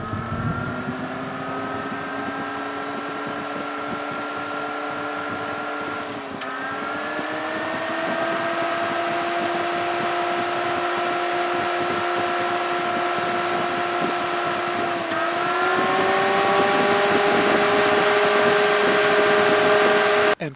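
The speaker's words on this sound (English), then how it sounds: "Here is what it sounds like closer to the fan." A Boundless Breeze 12-volt fan runs close up inside an SUV, a steady motor whine with airy rushing that steps up in pitch and loudness twice as the speed is raised, with no talk over it.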